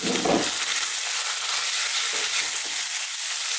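Thinly sliced beef hitting a hot pan over high heat for a Chinese beef and broccoli stir fry, a loud, steady, close sizzle with a brief thump at the start and no talk.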